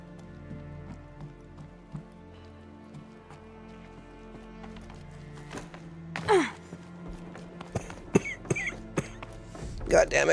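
Coughing breaks out partway through, a few rough bursts close by, mixed with someone talking and clattering game sounds and music from Horizon Zero Dawn Remastered.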